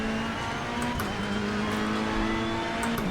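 Race car engine in Assetto Corsa Competizione screams at high, steady revs on a flying lap, with brief gear-shift dips, loud and close.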